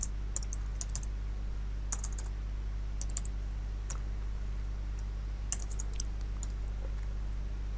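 Soft clicking of computer keyboard keys while code is entered, in short irregular clusters of taps over a steady low hum, fairly faint and with no talk.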